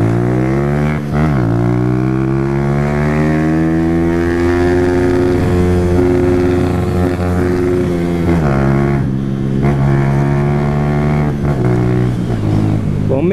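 A Honda CG Fan motorcycle ridden and shifted through gears, the single-cylinder engine drone climbing in pitch, dropping at each gear change, then rising again, loud and close throughout.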